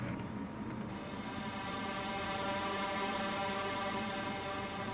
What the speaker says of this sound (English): the first sound you hear is this reverse sound